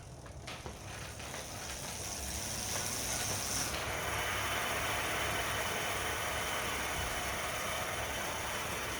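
A Pacific Nomad bicycle wheel spins freely in a spin-up test, giving a steady whirring hum with a fine ticking freehub ratchet that builds up and then holds, close and unaccompanied by any talk.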